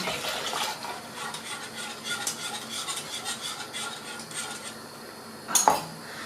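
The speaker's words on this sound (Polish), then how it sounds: "Mieszamy tak, żeby nie przywarło nam do dna i żeby się nie spaliło na niedużym ogniu." A spoon stirs milk pudding in a pot over low heat, giving steady soft scraping and clinking against the metal, with a sharper clank near the end and no talking.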